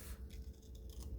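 Scissors snip through paper in quick close crisp cuts, a few rapid strokes, quiet and alone during crafting.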